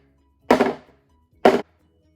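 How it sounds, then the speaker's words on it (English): Two hard bumps, about a second apart, as a metal cake pan of sour cream pound cake batter is banged down on a counter after shaking, each a short dull thunk with a quick fade and nothing else heard. "I'm going to shake it and bang it to get the air bubbles out"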